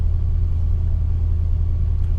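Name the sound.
Mercury Cougar engine idling while warming up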